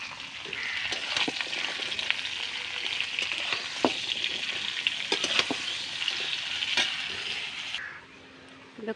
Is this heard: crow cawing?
no